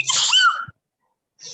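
A single sharp sneeze, close and loud, followed by a short silence and a faint breath.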